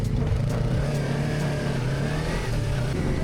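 Yamaha MT-25 motorcycle engine accelerating on a mountain road, a steady loud mid-pitched drone throughout with slight rises in revs, close and continuous with no talk.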